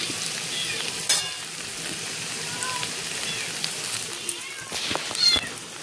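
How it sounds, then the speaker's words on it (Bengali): A cat meows a few times at moderate distance over a steady sizzle of potatoes and tomato frying in a pan. "আমার ঘরে কিরম বিড়ালের আওয়াজ, কিরম এসে মাও মাও মাও মাও করেই যাচ্ছে"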